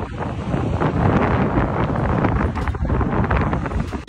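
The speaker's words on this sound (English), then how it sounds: "It's windy as hell." Strong wind buffets the microphone in a loud, steady, rough roar with gusty surges over a few seconds, no talk heard.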